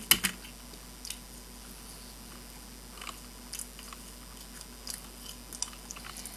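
Computer keyboard typing, sparse quiet key clicks spaced irregularly over a faint background hum, no talking.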